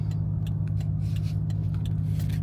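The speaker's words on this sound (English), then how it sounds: "So idles, everything fine. That's with the aircon on." A Toyota JZX100 Mark II engine idles smoothly with the air conditioning running, a steady low hum and faint regular ticking heard alone at moderate distance.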